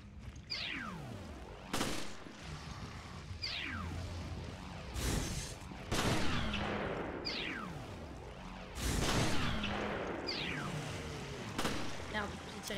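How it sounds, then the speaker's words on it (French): Sharp gunshots in the Resident Evil Revelations video game sound at irregular intervals over a low, rolling background of game ambience. "Merde, j'ai tiré."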